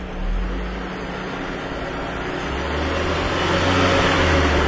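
The engine of a 1995 Mitsubishi Eclipse is held at raised revs, a steady close rumble with a broad roar that climbs slightly midway and continues without talk.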